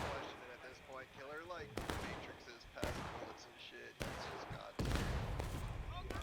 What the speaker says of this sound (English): Union artillery just hitting the frickin' fence